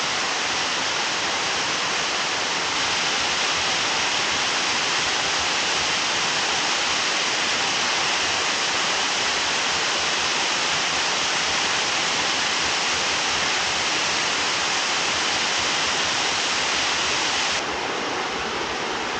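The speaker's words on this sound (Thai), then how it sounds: "นี่ คือ วิว น้ำตกด้านล่างนะครับ สวยมาก" A waterfall in Kanchanaburi, Thailand, viewed from below, pours with a loud, even, unbroken rush of water that fills the whole stretch, with no talking.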